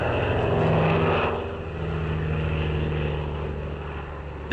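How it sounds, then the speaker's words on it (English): A tiny racing monoplane flying high-speed aerobatics drones loudly and steadily overhead, its propeller engine holding a buzzing tone that swells and then eases slightly as the plane passes. "a tiny racing monoplane that's perfect for high-speed aerobatics."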